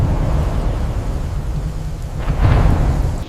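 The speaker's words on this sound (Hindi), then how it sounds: "आसमान का सीना चीरकर बिजली कड़क रही थी।" A deep rumble of thunder plays as a sound effect in a narrated story, a loud rolling roar building to a heavier crack near the end, with no speech over it.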